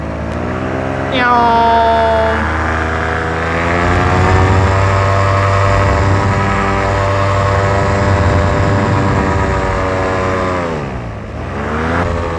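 A radio-controlled model aircraft whines past in a flyby, its engine pitch sweeping down as it approaches, holding a steady buzzing drone, then dipping again as it passes; a voice is heard briefly.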